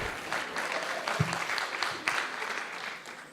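A lecture audience at a medical talk on antihypertensive drugs gives modest applause: scattered, fairly faint claps with a few sharper individual hits, fading out toward the end.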